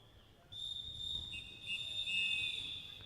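A referee's whistle blows a long, steady, shrill blast to end a period in a youth tchoukball championship game, shifting pitch slightly partway through, heard at a distance over a quiet indoor court hum.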